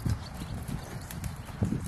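A gaited walking horse moves along with steady, rhythmic hoofbeats, clear and fairly close.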